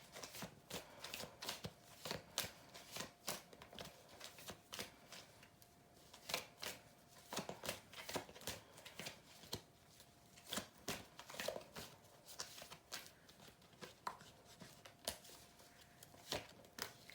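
Romance Angels oracle cards being shuffled by hand, a long run of crisp riffling flutters and soft slaps in irregular bursts, close and clear with no talk.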